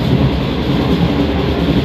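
Train running during a journey near Rawalpindi, a loud steady rumble of wheels and carriage noise filling the whole stretch without a break.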